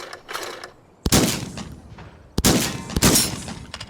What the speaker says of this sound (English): we're going to shoot some clay pots instead